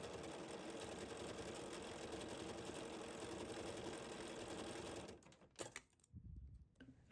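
Sewing machine stitching couched threads with a circular embroidery attachment, a steady loud mechanical whir running continuously for about five seconds, then stopping abruptly, leaving a few soft handling clicks and thumps.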